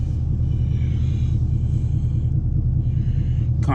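A tuned 2021 Chevrolet Camaro SS pulls hard with the windows down, its engine a loud, continuous deep rumble heard close from inside the car.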